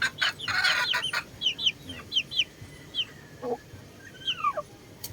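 Sweater Boston gamefowl in a backyard: a rooster crows loudly up close at the start, followed by a string of short clucks and chirps from chickens around it.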